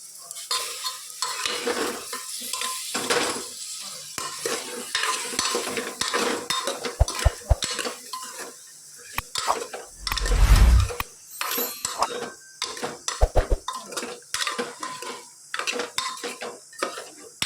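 A spoon scrapes and clanks against a pot while stuffed eggplant curry with spices is stirred, irregular metallic knocks and scrapes over a faint sizzle, with a louder rattling burst near the middle.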